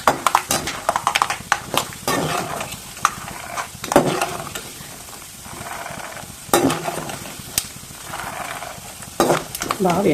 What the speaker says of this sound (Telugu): ఇలా కావాల్సినన్ని పల్లీలు అయితే తీసుకుని వీటిని కూడా వేయించేసుకుందాం